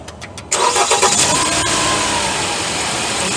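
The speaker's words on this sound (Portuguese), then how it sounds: "E agora vamos dar a partida ali, ó, para ouvir, ó." A Jeep Compass engine cranking briefly and then catching, settling into a steady idle after a freewheel pulley replacement, close and loud with no talking.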